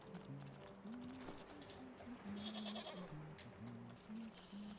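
Goats bleating in the video game Wytchwood, several short wavering calls repeating over quiet game ambience.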